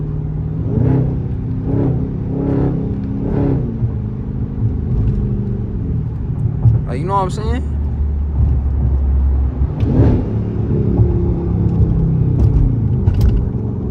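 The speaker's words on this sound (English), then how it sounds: "It's a 392 Hellcat. Like, you hear that one?" A Dodge 392 Hellcat V8 engine rumbles and idles steadily in the rain with a few deeper revs, while someone talks over it nearby.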